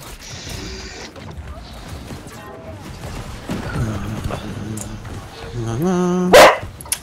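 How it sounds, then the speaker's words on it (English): A dog barks near a gamer's open microphone during online play, with scattered short barks building to a loud, sharp burst at the end over faint background noise. "That dog just scared the shit out of Yo, me."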